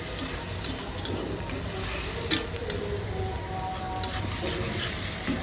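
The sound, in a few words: onions frying in pan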